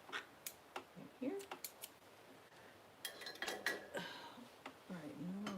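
Scissors snip through weaving yarn in a few short, crisp cuts with light handling clicks, close and fairly quiet, with brief speech in between.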